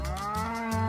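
Grass-fed beef cattle (Angus, South Devon and Murray Greys) on a farm at Stanley in northwest Tasmania low out a deep, sustained moo that fills the whole moment, close and steady with rich droning harmonics.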